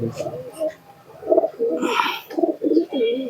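Pigeons coo close by in repeated low, throaty rolling phrases, with a brief rustling burst partway through.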